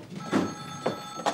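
An old-style telephone bell rings in short bursts, three quick rings spaced across a moment indoors, moderately loud with no talk over it.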